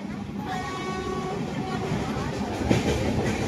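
A passenger train on the Konkan Railway rolls along steadily with a continuous loud rumble and faint rhythmic rail clatter, heard from inside the carriage with no talking.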